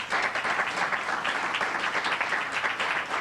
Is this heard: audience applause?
yes